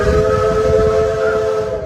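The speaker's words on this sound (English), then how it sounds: "Stay seated until our train comes to a complete stop." A steam train whistle sounds steadily and loudly over the rumble of an arriving train at a Disney park railroad, holding one continuous tone for the whole stretch with no talking.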